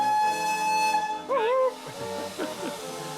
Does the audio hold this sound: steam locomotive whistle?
yes